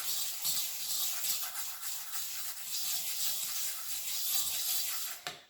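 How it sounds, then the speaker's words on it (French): A fork fluffs couscous grains seasoned with salt, pepper, olive oil, spices and herbs for tabbouleh, giving a continuous soft, close scratching and rubbing with small irregular rhythmic strokes. "vous égrenez avec la fourchette pour bien mélanger le sel, le poivre, l'huile d'olive, les épices et les aromates"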